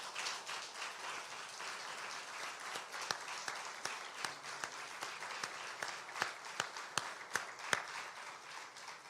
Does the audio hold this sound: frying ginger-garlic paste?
no